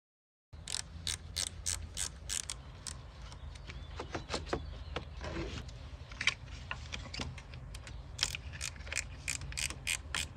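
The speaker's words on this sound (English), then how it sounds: "I'm using an impact here to remove this nut quickly for video purposes" Impact wrench removing a battery terminal nut on a 2013 to 2019 Nissan Sentra, close by, with rapid ratcheting bursts of clicks and short whirring runs repeated throughout, no voices.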